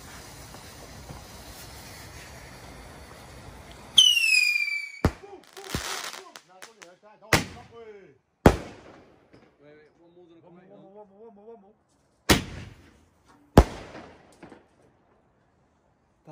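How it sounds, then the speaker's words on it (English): Fireworks on Bonfire Night: a whistling rocket launches, then a string of loud, sharp cracks and bangs goes off at irregular intervals, some close and booming, with crackling and people talking between the blasts. "See fireworks and here they are."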